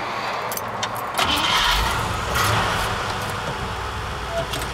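A 1954 Cadillac Series 62 coupe rumbles at idle, its engine swelling slightly in two low surges over a steady background, with a brief jangle of keys near the start.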